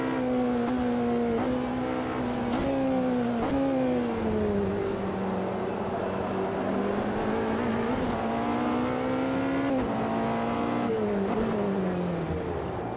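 A race car engine during a Le Mans race in the Automobilista 2 racing game, a steady loud drone with rising and falling pitch as the gears shift, continuous throughout with no talking.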